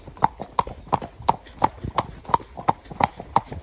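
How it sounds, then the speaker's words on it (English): A horse trotting home around a quarry gives a steady, evenly spaced clip-clop of hooves, about three beats per second, close and clear with no talk over it. "Obviously we're going towards home, trotting"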